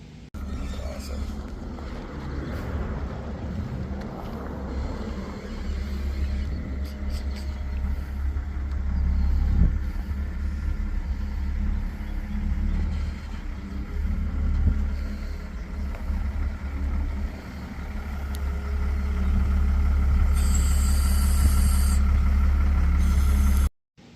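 An M1097R1 Heavy Spec Humvee is loaded onto a trailer outdoors. A low engine rumble runs under wind buffeting the microphone and grows louder and heavier near the end before cutting off abruptly.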